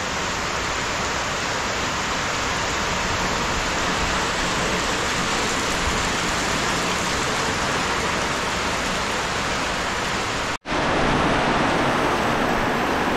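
Heavy rain pours down during a typhoon in a coastal fishing area, a dense, steady hiss that holds loud and unbroken for the whole stretch apart from one sudden cut near the end.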